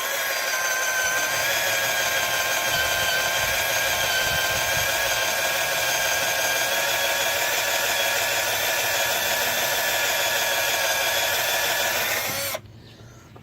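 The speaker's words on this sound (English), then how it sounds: "Kind of clean my drill bit off here a little bit" A power drill whines at a steady high pitch while its bit is cleaned, spinning continuously for several seconds before cutting off abruptly, leaving near silence; the work is removing a broken valve cover bolt on a 2002 Honda Accord.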